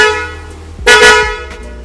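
Original Honda CR-V Turbo car horn fitted to a motorbike, sounding a single loud, close blast of under a second, with a faint engine hum before it.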